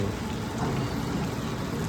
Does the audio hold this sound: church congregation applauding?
no